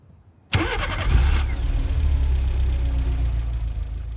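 A Toyota Camry engine, remote-started, cranks with a brief starter whir, catches, then settles into a steady, low idle.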